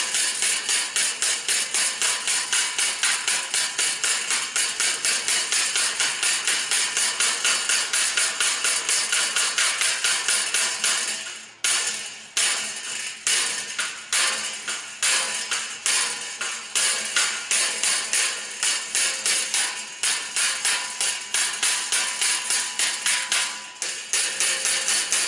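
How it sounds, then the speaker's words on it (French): Hammer blows knocking a dent back out of car body panel near the grille and wing, a long run of sharp metallic taps in quick steady rhythm, close and loud, with brief pauses between bursts. "après quelques coups de marteau, bon, j'ai réussi à ressortir quand même la bosse"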